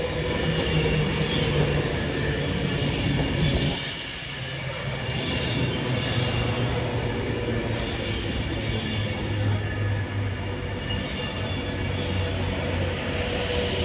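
An Avanti class 390 electric train, unit 390 043, runs through Wigan North Western station at night with a loud sustained rumble and wheel noise, heard close on the platform.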